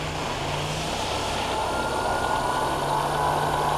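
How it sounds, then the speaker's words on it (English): A Trak three-axis CNC bed mill from 2000 with hand wheels and a power drawbar runs its spindle in low range at about 200 RPM, giving a steady, loud, even whirring hum throughout. "Start the spindle. That's your low range."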